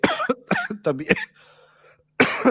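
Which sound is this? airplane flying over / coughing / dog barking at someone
coughing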